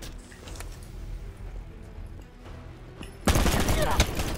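A loud burst of rapid automatic gunfire erupts near the end of a Black Ops 4 Gun Game match, following a stretch of quieter game ambience with faint shots.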